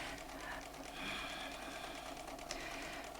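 Bernina sewing machine doing ruler-foot quilting along a template, a steady close-up mechanical whir with fast needle rhythm running throughout, without speech.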